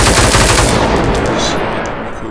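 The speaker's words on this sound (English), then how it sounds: "a machine gun, which I think has better recoil than the LSW" A rapid, loud machine gun burst in the Roblox game The W fires continuously at close range, a dense rattle that fades slightly at the end.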